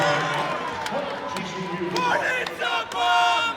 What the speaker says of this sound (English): they're screaming, so excited up in the stands